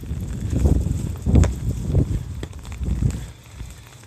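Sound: strong wind ahead of a typhoon

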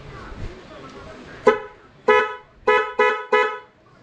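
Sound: G-Star Horn version 1 motorcycle horn on Honda Click 125i

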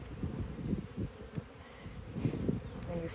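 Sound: bees buzzing in an opened beehive during inspection

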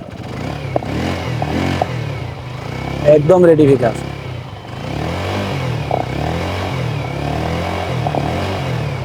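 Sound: Suzuki Gixxer motorcycle engine running

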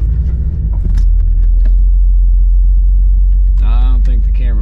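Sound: 1997 Corvette engine running

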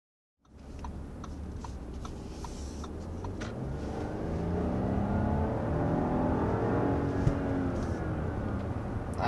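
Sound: Audi Q7 55 engine accelerating hard

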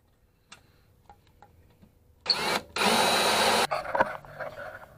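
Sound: drill cutting out a spot weld on a car

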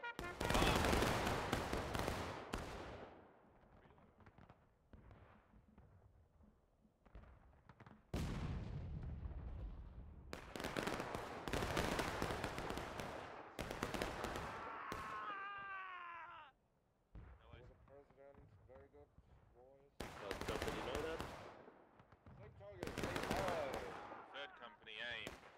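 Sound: battalion musket volley fire in the video game War of Rights

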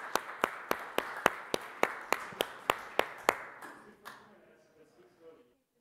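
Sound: audience applause at a startup conference

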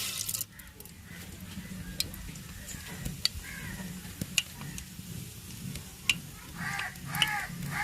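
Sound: urad dal sizzling in hot oil in a pan

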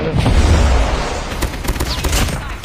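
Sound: gunfire in video game Call of Duty Mobile

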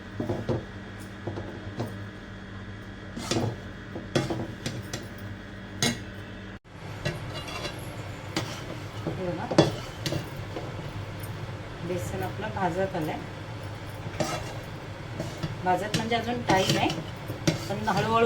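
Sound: stirring besan (gram flour) with ghee in a pan

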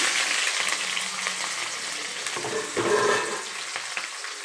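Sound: green chillies and onions frying in hot oil

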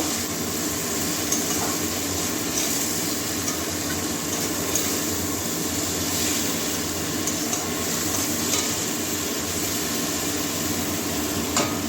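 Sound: stir-frying bean and potato curry with spices

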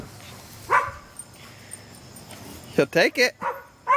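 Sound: dog

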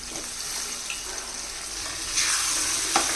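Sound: potatoes and tomatoes frying in a pan

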